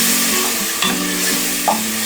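Masala spices sizzle and fry in a pan while being stirred for a mushroom biryani, with a steady close hiss and soft scraping of the spoon.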